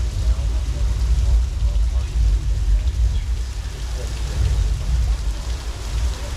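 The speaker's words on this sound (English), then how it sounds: "when we get too much rain, then it can lead to disaster in the form of flash floods" Heavy rain and rumbling flash flood effect at a Universal Studios Hollywood attraction, a loud continuous roar of pouring water with deep low rumble throughout.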